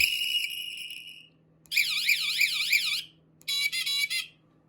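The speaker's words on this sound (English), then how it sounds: "Then I put on this nice little fun horn." A bright electronic bike horn on a velomobile plays several novelty tones: a steady beep, then a warbling siren-like trill, then a short rapid chirp, each separated by pauses.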